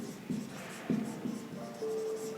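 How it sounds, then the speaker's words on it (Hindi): A marker or chalk writes on a board while a maths problem is worked out, giving a few short, faint strokes and taps close by, followed by a brief tone. "मैं पूरा लिखता हूँ यहाँ पे"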